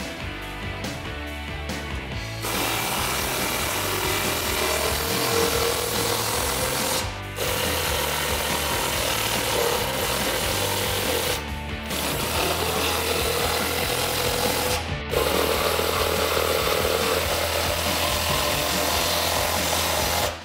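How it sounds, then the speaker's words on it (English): An impact gun tightens the side bolts of a DV8 RS-1 rear bumper on a 2007–2018 Jeep Wrangler JK with an 18mm socket, giving loud, sustained buzzing hammer bursts separated by brief pauses, close up and without speech. "Now using an 18mm socket, go ahead and tighten up the sides. I'm gonna be using an impact gun."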